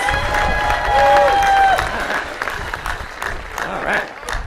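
An audience at the 2018 College of Alameda commencement applauds the college president after his address, a broad wash of clapping and cheering with a brief whistle-like tone and voices mixed in.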